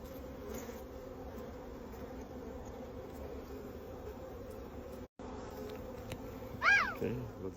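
Honeybees drone inside an opened beehive, a close, steady low buzzing hum that continues throughout, with a brief cat-like meow near the end.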